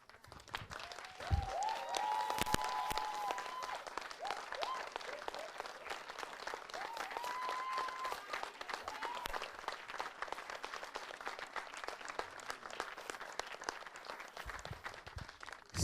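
Audience applause during an evening session of a youth leadership summit, a long, even spell of clapping at moderate distance with a few whistles and cheers rising above it.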